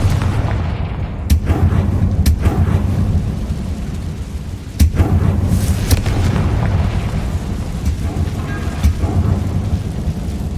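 A fire spell detonating in the Hogwarts Legacy video game: deep rumbling blasts with several sharp booms over a steady low roar, loud and close, without speech.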